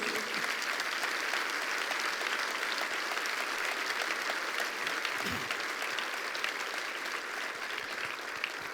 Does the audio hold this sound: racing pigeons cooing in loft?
no